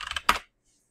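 A burst of quick keystrokes on a computer keyboard, several close clicks followed by one heavier key press, then silence.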